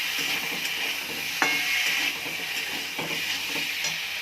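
Vegetables and tomato sauté in a pan for a curry, a steady close sizzle under repeated scraping stirs, with a sharp clatter about a third of the way in.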